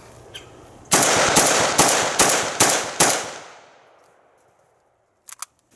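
A Zastava ZPAP M70 AK rifle fires six loud, sharp shots at a steady pace outdoors while testing windowed magazines. A long echoing tail follows, then a few faint clicks of handling.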